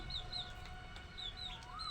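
Soft, low clucks from a wet broody hen sitting on eggs, mixed with faint high bird chirps in a quiet outdoor setting, gentle and intermittent.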